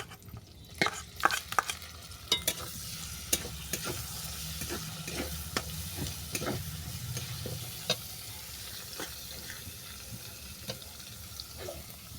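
Green chili, poppy seed and coconut paste frying in a pan while being cooked for shaplar ghonto, giving a steady close sizzle broken by repeated sharp stirring scrapes and clinks.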